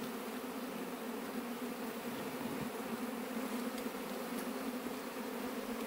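A honeybee swarm pouring out of a wooden stump near a house makes a dense, steady buzzing drone, close and constant for the whole stretch with no voices.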